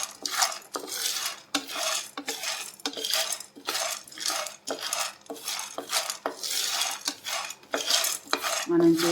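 Peanuts fry in a pan over a low flame while a utensil scrapes and stirs them in a steady, repeated rhythm of close metallic rasps, with no talking.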